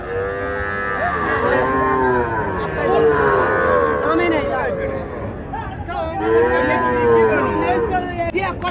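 Heifer calves and other cattle moo repeatedly at a busy cattle market at Raniganj haat, the loud lowing calls rising over steady crowd chatter and people talking throughout.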